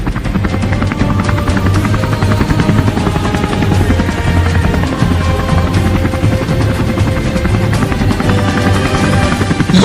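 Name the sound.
MH-60R Seahawk helicopter flying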